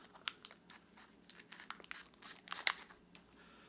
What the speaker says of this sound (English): take the scissors, and you're going to actually make 2 cuts diagonally on each side.